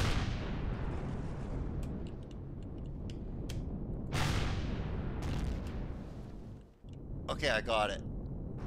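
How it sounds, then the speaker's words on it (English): Enemy homing missiles fire at the player in the space survival game Empyrion - Galactic Survival, a steady roaring rush of launches and blasts beneath a voice, briefly dipping before a burst of engine-like whine returns. "Missiles. Missiles being shot at me."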